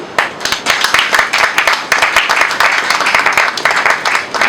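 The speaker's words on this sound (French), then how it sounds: "Applaudissons énormément." An indoor audience at a training-program ceremony breaks into dense, loud, continuous clapping that carries steadily from start to finish.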